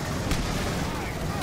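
Gunfire from a weapon in the co-op shooter Aliens: Colonial Marines, a short dense burst of loud, booming shots over ongoing game noise, lasting about a second and a half.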